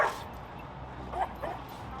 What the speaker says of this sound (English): now we got another reactive dog